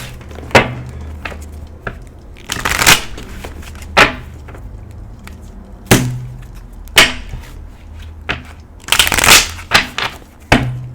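A tarot deck is shuffled by hand in repeated riffles and slaps, with crisp card snaps at irregular intervals and a couple of longer fluttering runs, close up over a low background hum.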